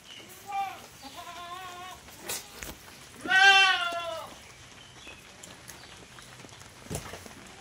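Goats penned inside a farm shed on an overcast day, bleating repeatedly nearby, with several short calls early on and a long loud wavering bleat in the middle, plus occasional knocks and rustles.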